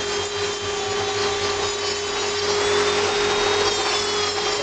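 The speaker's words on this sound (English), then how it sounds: "keep that dust down with the vacuum cleaner." Vacuum cleaner running steadily alongside leather skiving with a tool, a loud continuous whine and rushing hum with a slight swell partway through, no talk.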